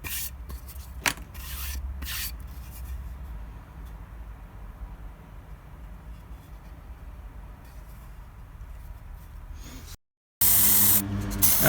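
A steady, close spray hiss of clear coat being applied over a resin and gold leaf house number sign. The hiss runs continuously for about ten seconds, then stops abruptly and gives way to a brief, louder burst of broadband noise.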